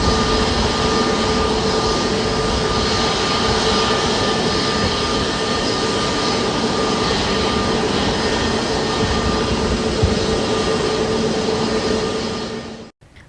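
Aircraft jet engines roar in a steady, loud, unbroken wash of broadband noise with faint whining tones, holding level for about twelve seconds before cutting out, with no voices present.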